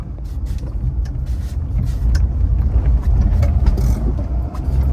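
A 1969 Alfa Romeo Giulia Super 1.6 drives along a road with disc brakes all round, its engine a loud, steady drone with road rumble throughout and no one speaking.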